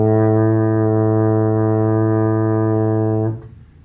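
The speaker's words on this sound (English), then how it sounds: "A is on the first space of the staff and sounds like this." Baritone horn sustaining a single steady A, played as a second-valve note for a beginner band lesson, loud and clear for about three seconds before cutting off cleanly.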